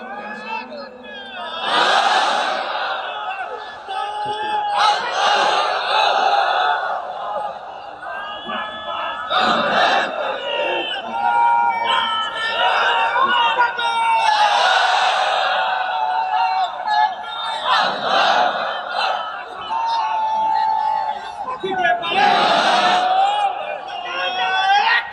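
A large crowd at an Islamic sermon gathering chants slogans in loud, repeated unison bursts that rise and fall over about 25 seconds, with cheering and voices throughout.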